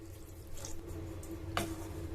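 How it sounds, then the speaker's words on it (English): Half a glass of water pours briefly into a pot of simmering dal makhani masala, a quick close splash over a faint steady background hiss. "half a glass of water, and stir it"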